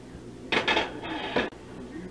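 A metal pot is scraped with a utensil while the last of its contents goes into a meatloaf mixture: two or three close, rasping scrapes with clinks between them, over a quiet kitchen hum and no talk.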